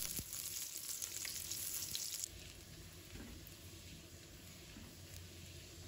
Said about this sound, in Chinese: 油热之后，把蒜片放入锅中，